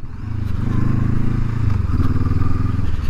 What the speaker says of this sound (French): Ah, la moto, elle y va, hein.